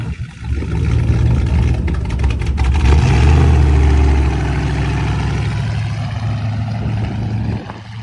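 A demolition derby car's engine drives out at an event, a loud, close, rough rumble that swells and revs, then holds steady and slowly fades as it pulls away.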